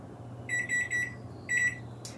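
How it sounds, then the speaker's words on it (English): A kitchen timer goes off for baking honey white sandwich bread: two bursts of rapid electronic beeps, three quick beeps then a short pause and another cluster, over a low oven hum, with no talk. "There's our timer for our bread"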